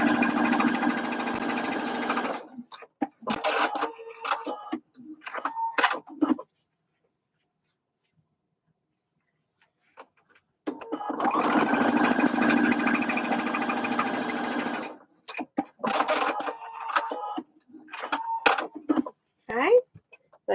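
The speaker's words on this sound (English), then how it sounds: "And then sew down the side seams." A sewing machine stitches the side seams of a fabric bucket hat in steady whirring runs, pausing for several seconds midway, close and clear, while a person talks between stretches of sewing.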